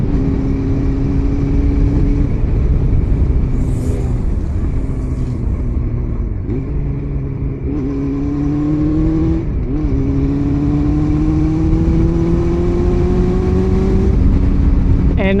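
A Honda CB400 Super Four engine runs loud and close, its pitch climbing and dipping through several revs over a constant rumble.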